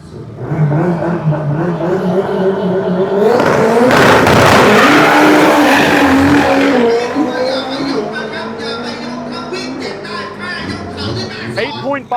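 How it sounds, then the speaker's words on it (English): A drag race car on a Thai drag strip launches and makes a quarter-mile pass, its engine roaring loud and close before fading into the distance as crowd chatter continues. "I actually want to hang out and see if we can see this car make a pass"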